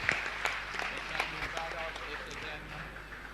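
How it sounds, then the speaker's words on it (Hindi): A crowd at a Jain religious gathering claps in honour, a continuous, moderately loud ripple of applause with a voice speaking over it. "जोरदार जोरदार ताली बजाकर उनका सम्मान करें।"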